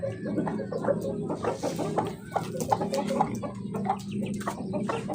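Chickens cluck steadily in short, overlapping bursts, with a few louder squawks rising above a constant farmyard murmur.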